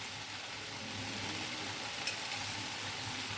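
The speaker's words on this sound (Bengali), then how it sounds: "মশলাগুলো দিয়ে ভালো করে সবজিটা কষিয়ে নিব" Potato and tomato curry sautéing in a pan with salt, turmeric, cumin and ginger paste, giving a steady, close sizzle that holds at an even level throughout, with no voices.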